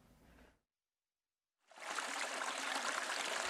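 Stream water trickling through a frozen winter valley lined with icicles, a steady close rushing flow that starts after a brief silence and keeps going.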